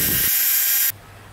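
A power drill bores through a drill jig into a wooden comb rail for a beehive comb module, a loud close whirring run that cuts off abruptly into a quieter low hum.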